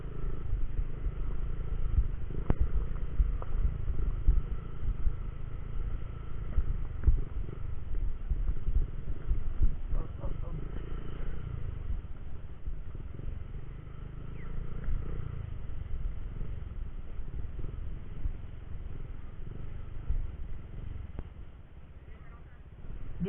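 Motorcycle engine while riding on the way to Bolinao Falls in Pangasinan, a continuous low rumbling drone with wind noise, steady and moderately loud for the whole ride and easing slightly near the end.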